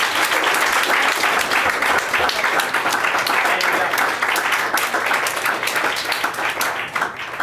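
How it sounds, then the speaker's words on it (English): An audience at a political poetry evening gives a round of applause for the poets, dense and loud continuous clapping that holds steady and tapers slightly at the end. "one more round of applause for all the poets,"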